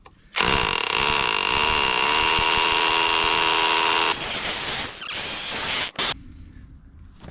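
A power drill whirs steadily for several seconds, then its pitch and load change as it bites through a composite fence board before cutting out, followed by brief rattling.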